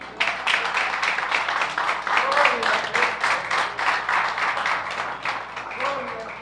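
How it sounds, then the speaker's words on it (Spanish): Church congregation applauding throughout, dense steady clapping at moderate level with faint voices mixed in. "¿Cuánto le damos un aplauso?"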